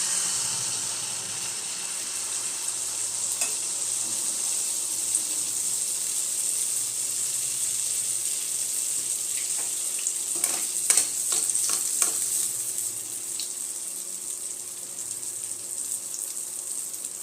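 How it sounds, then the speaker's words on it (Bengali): Dhuska, a Jharkhand-style fried bread, sizzles steadily in hot oil with a continuous bright crackling hiss, joined near the end by a few sharper spatters and pops. "দেখুন এটা ওরকমই ভালোভাবে ভাজা হয়ে গেছে"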